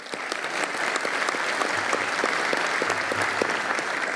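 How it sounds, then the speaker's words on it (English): Audience applause for sponsors at the 2026 Madison County Hall of Fame event, a steady dense clapping that holds evenly loud throughout and never fades. "please join me for a round of applause for all these sponsors"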